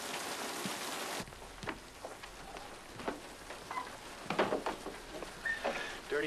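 Heavy rain pours steadily at night, a dense close hiss with scattered louder drips and patters on surfaces; a sharp drop after the first second leaves a softer, continuous downpour.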